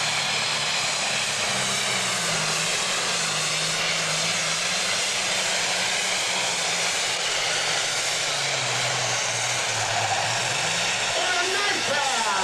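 Allis-Chalmers D21 three-charger pulling tractor, about 1,500 horsepower, roars continuously at full load in a 1998 NTPA tractor pull at Shiawassee, Michigan, a loud, steady, high-pitched engine scream with an announcer talking over it.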